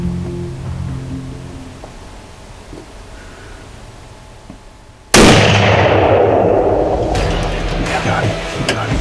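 A rifle shot on a whitetail deer hunt in Texas, one sudden loud blast that cuts through quiet outdoor air and rings out in a long decaying echo.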